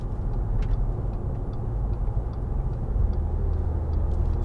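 A 2013 Audi A4 Avant 1.8 TFSI estate pulling away and accelerating, a steady low engine drone with road rumble that rises slightly in pitch, heard from inside the cabin with no talking.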